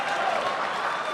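Esports fans clapping at a League of Legends regional playoff event, a steady, dense patter of crowd applause for about a second, with faint voices mixed in.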